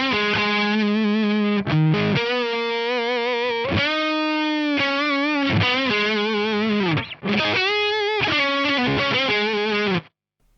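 Distorted electric guitar through a Carvin Quad-X tube amp plays a melodic, sustained lead line, with bending notes and brief gaps, ringing alone up close before cutting off.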